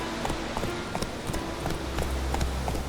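Horse in The Witcher 3 galloping with a steady, rapid clip-clop of hooves, loud and close, over constant background ambience.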